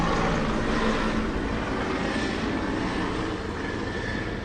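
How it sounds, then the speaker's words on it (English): A helicopter flies overhead with a loud, continuous engine and rotor drone that stays steady throughout and drowns out everything else. "Helicopter."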